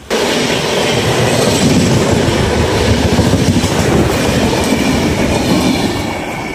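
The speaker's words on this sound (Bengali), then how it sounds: "ডবল 2503 বিবেক এক্সপ্রেস এসে গেল" The Vivek Express, a very long train running from Dibrugarh in Assam to Kanyakumari, passes close by with a loud, steady rumble and rhythmic wheel clatter sustained throughout, with no voices.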